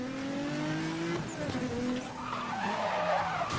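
A Nissan GT-R braking hard in Need for Speed Most Wanted 2012 during a police chase, tires skidding and squealing in a long tonal screech as the engine drops, with a player's voice briefly over the game sound.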